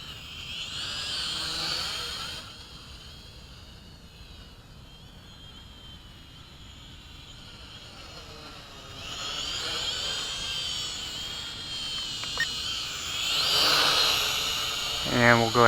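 A SYMA X5C quadcopter flies overhead, its small propellers giving a steady high whine that swells and fades as it moves nearer and farther, with a person talking throughout.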